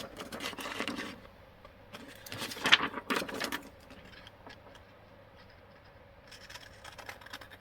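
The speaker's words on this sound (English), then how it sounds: "Just going to grab my scissors" Scissors snip through paper while cutting out a handmade paper craft for happy mail, with short bursts of crisp cutting near the start and middle, then quieter handling afterward.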